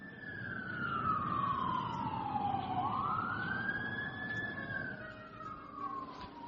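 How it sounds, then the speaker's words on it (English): A wailing police siren on a passing vehicle, rising and falling in pitch over several seconds at moderate distance, with road traffic rumble underneath. "As you hear police sirens going by."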